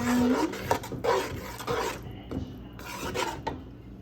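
A spoon stirring cumin powder into a lasagna filling mixture, scraping and clinking against the pot in steady rubbing strokes, close and fairly loud.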